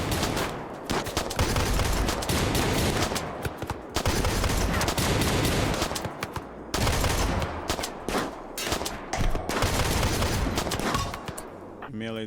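Shotgun blasts in the colony-combat video game RimWorld, a dense run of loud repeated bursts of gunfire in quick clusters with brief pauses between volleys.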